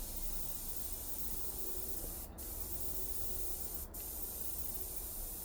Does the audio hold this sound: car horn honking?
no